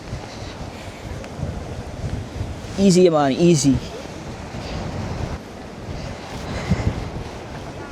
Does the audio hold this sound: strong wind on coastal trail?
yes